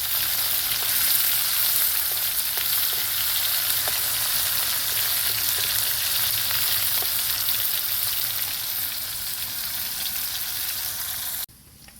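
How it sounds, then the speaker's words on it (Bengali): Fish frying in hot oil makes a loud, close, continuous sizzle with faint crackles throughout, cutting off abruptly just before the end. "মাছগুলো আমার ভালো করে ভাজা হয়ে গেছে,"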